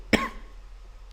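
One short, close cough rings out, followed by a quiet background hush.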